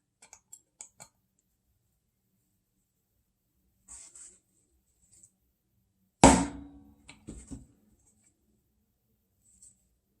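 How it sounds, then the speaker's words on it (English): Light taps of a small hammer drive a roll pin flush in a Ruger LCP pistol, giving sparse, crisp ticks and one louder close strike followed by a brief clatter, with no talk. "let's hammer it a little bit more"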